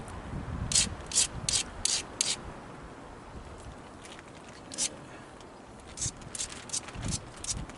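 Dacite stone tool edge being ground against an abrasive surface, with quiet scraping strokes in two rhythmic bursts of about five passes each, separated by a lull, near and fairly faint.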